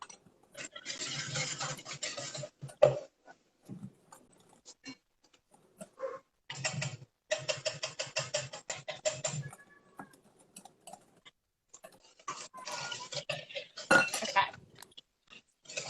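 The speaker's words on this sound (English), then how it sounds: "give it a quick mix with my whisk, just to go ahead and make sure everything's incorporated" Dry ingredients for bibingka being whisked by hand, with close rapid scratchy bursts of wire against a bowl in several short bouts separated by pauses.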